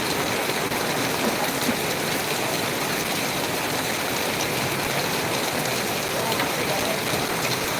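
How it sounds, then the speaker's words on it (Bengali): Heavy monsoon rain pours down over Natore town in Bangladesh, a dense, unbroken hiss of falling water that stays loud and even from start to finish with no pauses. "একইভাবে বৃষ্টি হচ্ছে ধরে বৃষ্টি হচ্ছে"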